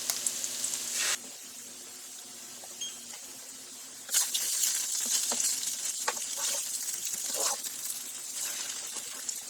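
Eggs sizzle on a hot griddle during batch breakfast cooking. A bright, steady crackling hiss softens after a second, then surges back loud and spattery with scattered pops and bursts.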